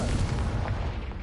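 Confringo spell explosion in Hogwarts Legacy, a dense, rumbling blast that fills the moment, heavy and close, with no speech over it.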